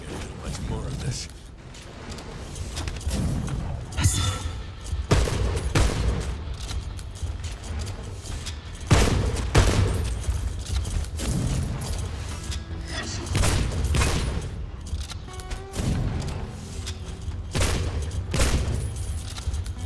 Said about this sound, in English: Shooting from afar.